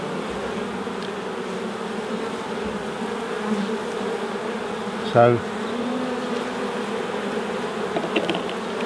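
Honey bees crowd a hive frame and keep up a dense, steady buzz close by. A short knock or bump cuts through midway, and a single word is spoken near the start.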